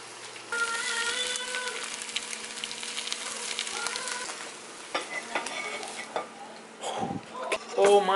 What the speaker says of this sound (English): That's how you make scrambled eggs